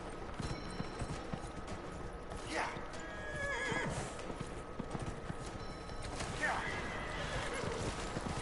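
Dragon Age: Inquisition audio of a horse running in a race with rhythmic clip-clop hoofbeats and two loud whinnies, over a busy background.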